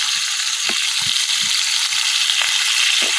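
Pangas fish frying in hot oil in a village kitchen, a steady broadband sizzle throughout with a few soft knocks and scrapes as pieces are turned over; no talking.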